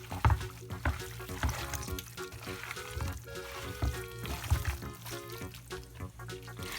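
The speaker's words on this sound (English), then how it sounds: "and mix everything well." Spices and coriander powder being stirred in a pan as they sizzle and fry, with intermittent scraping strokes over soft background music.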